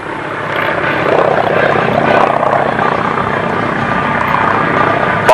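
Aerobatic airplane flying a point horizontal roll at an airshow, a steady, loud engine and propeller drone held at constant level throughout, with no talk heard.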